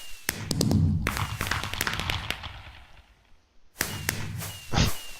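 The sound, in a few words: fireworks being shot in a video game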